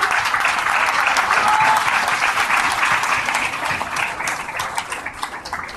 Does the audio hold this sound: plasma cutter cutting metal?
no